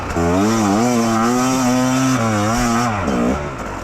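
Fantic XE 300 dirt bike engine revs loud and close, a rising and falling two-stroke howl with strong harmonics, held steady before dipping and surging again near the end.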